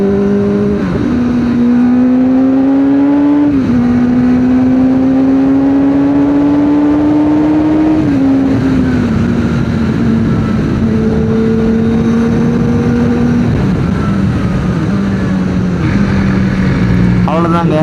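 A Kawasaki ZX-4RR motorcycle in sport mode accelerates hard through the gears, its engine whine climbing in pitch, dropping at each shift and climbing again, loud and close under rushing wind.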